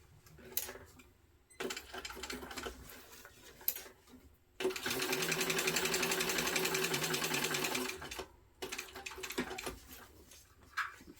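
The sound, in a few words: sewing machine stitching a backpack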